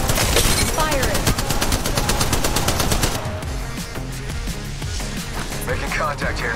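Sustained rapid automatic weapon fire in Apex Legends Mobile, a loud fast rattle for about three seconds, then quieter scattered shots and game noise.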